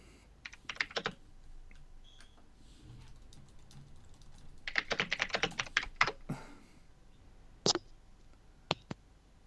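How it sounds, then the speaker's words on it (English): Keyboard typing comes through a Skype call in bursts of rapid key clicks, with a few isolated taps between them over quiet line hiss. "Stuart, we can hear the typing through the call."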